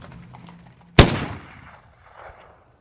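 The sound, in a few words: gunshot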